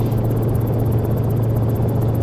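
A Vskylabs Cicare 8 helicopter in the flight simulator X-Plane 11 drones loud and steady, its rotor throbbing in a rapid, even beat over a constant engine hum.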